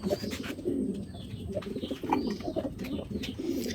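Soft, repeated cooing of racing pigeons close by in a loft, low throaty calls rising and falling over a faint background hiss.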